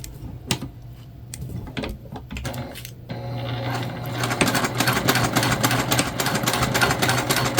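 A sewing machine stitches shut the turn hole of a wristlet sewn from upcycled jeans, starting with a few short bursts of stitching and then settling into a fast, steady, close-up mechanical whir.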